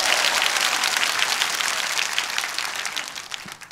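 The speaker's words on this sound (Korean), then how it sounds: "큰 박수 한번 해주시기 바랍니다." Sustained applause from a large crowd at a political rally, loud and steady at first, then thinning slightly toward the end.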